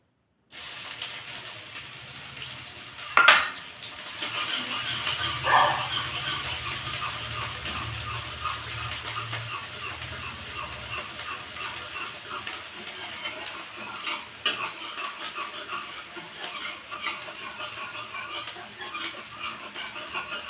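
Dishes are handled and washed in a home kitchen: water runs steadily at a moderate distance, with a few sharp clinks and knocks of utensils early on and soft clatter throughout.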